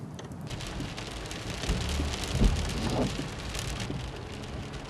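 Steady rain falling on a hard surface, a dense constant patter with a few louder splashes and a faint low rumble partway through.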